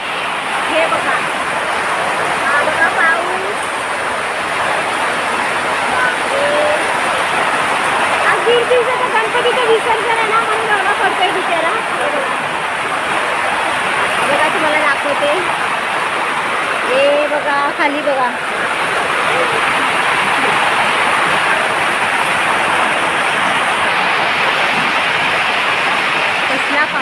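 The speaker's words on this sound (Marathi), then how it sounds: "इकडे पाऊस बघा किती पडतोय" Heavy monsoon rain pours steadily in a home setting, a dense continuous roar with a few voices speaking briefly over it.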